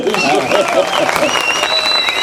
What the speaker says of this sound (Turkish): Bizde yok mu bize de bir alkış?